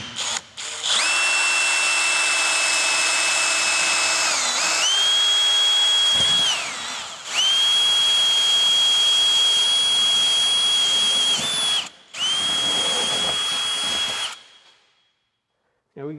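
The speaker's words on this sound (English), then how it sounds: "So I'm going to drill right there." A power drill whines loudly in several long bursts, drilling through an RV camper wall, pitch shifting as it bites into material, with brief pauses between runs before stopping.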